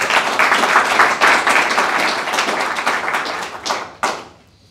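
Audience applause at an Australian Labor Party funding announcement event, a dense, sustained burst of many hands clapping that carries on for several seconds, then thins to a few final claps before falling quiet.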